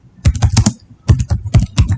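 Rapid clicks on a computer keyboard come in two quick bursts of several keystrokes each, crisp and close, with no talking over them.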